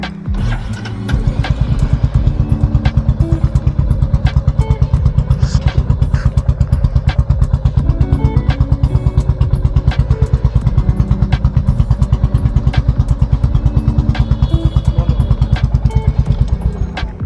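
A motorcycle due for a silencer change and smoke test starts up after a brief burst of clatter, then settles into a loud, close, steady rapid-firing idle with a thumping rhythm that runs to the end.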